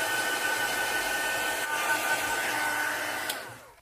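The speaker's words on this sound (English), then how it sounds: "I'm just going to dry off my card." A hair dryer blows steadily and loudly over a card during mixed-media cardmaking, a continuous whooshing hum that cuts off at the end.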